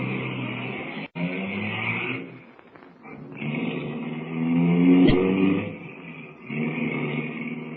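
A car engine runs and pulls away as a radio drama sound effect, a steady motor drone that swells and revs before settling, heard alone without talk.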